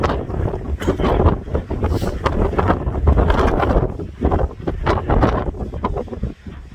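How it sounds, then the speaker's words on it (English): Strong wind roars and buffets the microphone continuously, with gusty rushing noise throughout and no voices. "It's crazy windy, guys"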